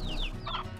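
Chickens clucking in the video game Slime Rancher, a brief close-up burst of a couple of short clucks heard alone.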